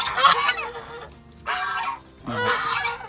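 Geese on a farm give three loud, close honking calls, separated by short pauses, with no talk over them.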